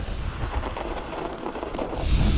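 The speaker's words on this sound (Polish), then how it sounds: "Zaczyna wiać, także im bliżej morza, tym wiatr bardziej odczuwalny." Gusty winter wind near the sea, with a storm on the bay, roars steadily across the microphone, a low buffeting rumble that swells slightly toward the end, with no voices.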